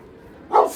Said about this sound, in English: they bark at them like they want to eat them